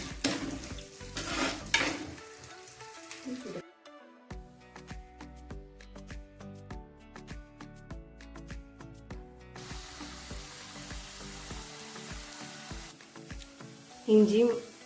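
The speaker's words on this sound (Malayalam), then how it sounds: "ഇഞ്ചിയും വെളുത്തുള്ളിയൊക്കെ വഴണ്ട് വരുന്ന സമയത്ത്" Ginger and garlic sautéing in a pan for Kerala-style spicy fish curry, a steady sizzle with stirring and clinks of a utensil against the pan, fairly close and moderate in level.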